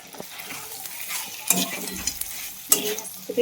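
Potatoes stir-fried in a pan give a soft sizzle under sharp spatula scrapes and clinks against the metal, two louder strokes standing out over a few seconds.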